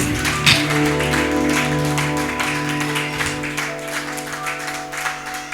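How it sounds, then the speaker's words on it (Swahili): Church congregation clapping in praise to Jesus, a dense sustained wash of hands lasting throughout, with a sustained musical tone underneath and some brief louder claps near the start. "Pigie Yesu tu makofi mazuri."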